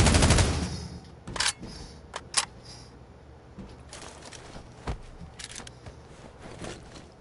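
Gunfire from the video game Sniper Ghost Warrior Contracts: a loud opening burst, then scattered sharp shots and cracks spaced irregularly over a dull background hum.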